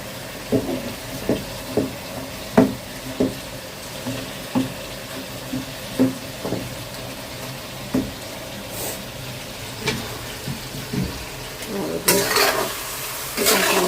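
Fish laid into a hot pan in a home kitchen frying quietly, with a steady low sizzle and a series of clear utensil taps and clinks against the pan, plus a brighter hiss flare near the end.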